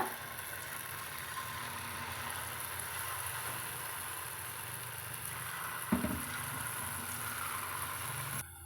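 Cassava snack pieces frying in hot oil, a steady sizzling hiss with a soft bubbling undertone, continuous and fairly even, with a brief clatter near the end.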